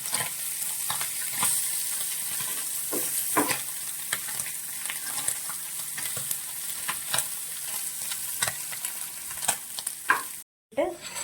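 Anchovies fry in hot oil in a pan for fish pickle, a steady close sizzle punctuated by sharp crackles and spatters, with a brief dropout near the end, no talking.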